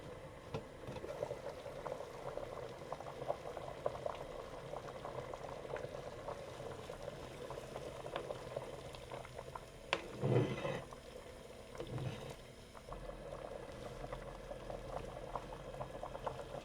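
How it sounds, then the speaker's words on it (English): Chicken chili made with canned chicken boils in a pot over an off-grid cooking setup, giving a steady soft bubbling and popping that runs unbroken, with a few louder plops partway through. "So the chili's boiling now"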